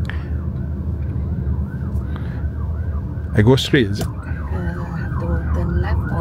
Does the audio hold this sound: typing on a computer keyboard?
no